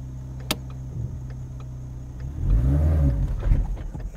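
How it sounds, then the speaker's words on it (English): Manual transmission car on a steep hill idles, then its engine revs up sharply for about a second before settling, close and fairly loud. "Give it a little more gas."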